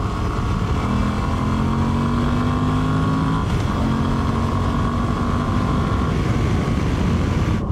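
A Moto Guzzi V85TT mid-size trail motorcycle being ridden, a loud steady engine drone with wind rush, the pitch climbing in smooth sweeps as it accelerates through the gears.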